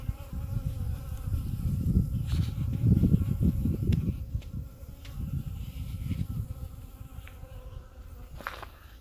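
Chilled honey bees away from their hive buzzing close by, a low wavering drone that swells and fades in uneven bursts, with faint clicks and no talking.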